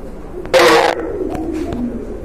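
A pair of large white Bombay pigeons gives a soft, close coo with one brief louder burst, under low background noise.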